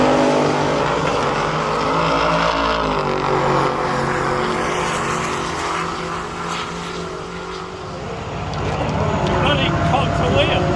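A nitrous-fed drag race car accelerates hard, its loud engine roar rising and shifting in pitch through the run, with people talking over the engine noise.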